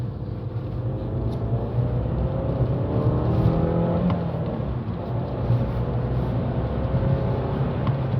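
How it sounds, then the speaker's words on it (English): A small turbocharged Fiat 500 Abarth accelerates hard in sport mode on a dual carriageway, its engine drone rising steadily as the turbo spools, heard loud and close from inside the cabin. "let that little turbo spool up and slingshot me down the dual carriageway"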